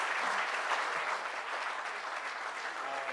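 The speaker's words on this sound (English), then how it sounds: "a round of applause for the kitchen staff" Ceremony audience giving sustained applause for the kitchen staff, an even, continuous roar of many clapping hands without speech.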